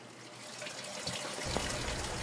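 Tap water runs through a filter to collect brewing water for a Pilsner, a steady trickle that strengthens into a fuller gushing flow near the end, close and alone.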